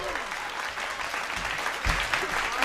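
An audience at a Hindi hasya kavi sammelan, a comedy poetry event, breaks into steady applause, a dense wash of clapping from a large crowd throughout.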